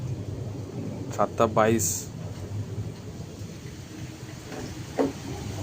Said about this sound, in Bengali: ঝড় বৃষ্টি, কি অবস্থা এখানে। এই জল পড়া চালু হয়ে গেছে, এই দেখো জল পড়ছে কিভাবে